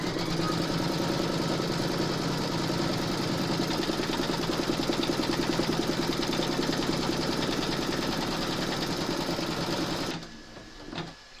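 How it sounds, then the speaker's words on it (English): An embroidery machine stitches through batting held in a hoop on a remembrance quilt panel, a loud, rapid, continuous rattle of needle strokes for about ten seconds before stopping, followed by a few quiet clicks. "Pop your hoop into your machine and stitch round number two to secure it."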